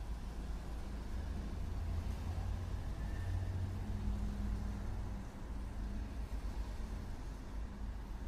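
Car traffic in the video game Exit 8 rumbles as a continuous low, steady drone, moderately loud and even throughout, like distant road noise with no distinct passing vehicles.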